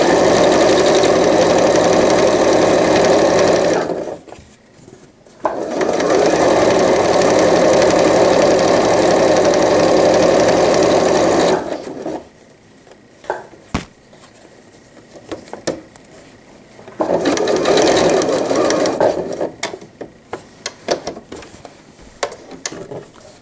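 Sewing machine stitching a welt pocket opening, loud steady bursts of rapid stitching that stop with short pauses for pivoting and then restart, three long runs in all with quiet handling gaps between.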